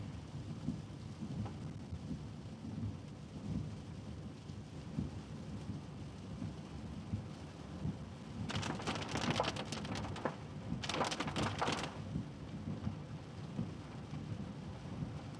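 Torrential rain pours steadily in Texas with a deep, continuous roar, while thunder rumbles low underneath and two brighter, crackling bursts of downpour or nearby strikes stand out near the end; no one speaks.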